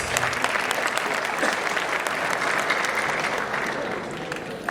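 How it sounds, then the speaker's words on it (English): Steady, dense applause from a large audience at a farewell event, sustained and loud throughout before easing slightly at the end. "Please, a huge round of applause."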